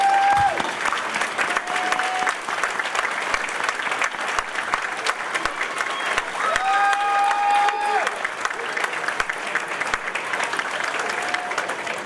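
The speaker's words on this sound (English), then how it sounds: "Please rise to get a round of applause." An audience at a sports hall of fame banquet applauds first responders with steady, loud clapping that lasts the whole stretch, while a few short tones and voices sound faintly in the background.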